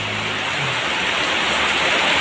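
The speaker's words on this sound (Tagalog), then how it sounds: "Malakas yung ulan sa labas, malakas rin yung ulan dito sa loob." Heavy rain pours steadily outside a house, with water dripping and leaking indoors through the roof; a dense, continuous hiss fills the space at close range without pause.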